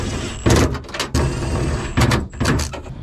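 A car door lock, tested with junkyard-sourced door handle parts, is locked and unlocked, giving several sharp mechanical clunks in two close pairs, loud and near with no talking.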